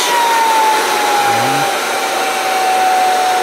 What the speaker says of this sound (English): the motor's spinning top speed, and the vacuum level on this motor is about 22 inches.